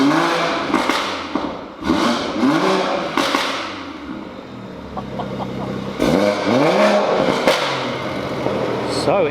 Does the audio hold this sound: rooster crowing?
no